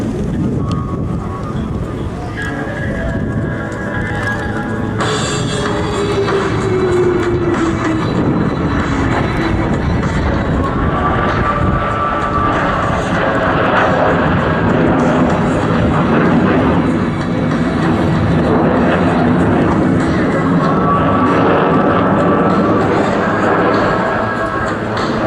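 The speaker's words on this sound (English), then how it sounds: "Ladies and gentlemen, the Blue Angel left echelon roll." Blue Angels jets fly a left echelon roll at the 2012 Sioux Falls airshow, a loud sustained roar with a sweeping pass and shifting engine tones, under a public-address announcer.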